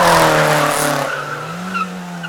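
Rally cars on a historic mountain hill climb between Lucéram and Peira Cava, one screeching into a skid with a loud tire squeal over a revving engine, the squeal fading as the engine note carries on.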